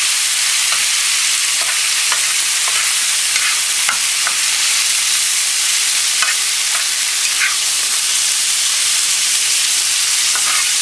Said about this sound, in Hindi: मिन्स ऐड करने के बाद इसको हल्का सा आप मिक्स कर लें